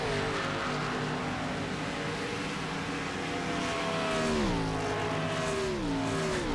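A stock car in a racing video game pulls down pit road, its steady engine drone holding, then dipping in pitch twice as it slows. Loud and continuous, without talk.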